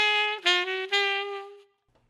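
A solo saxophone plays a short chromatic exercise line of about three connected notes, close and clear, with the last note held and then fading into silence.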